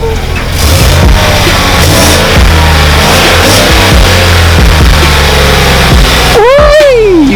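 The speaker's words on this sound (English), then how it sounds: "Let's hear some revs, boy." A stock LS3 V8 car engine runs loud and close with rough harmonic rumble and sharp bursts, then sweeps up in pitch as it revs near the end, with voices faintly mixed in.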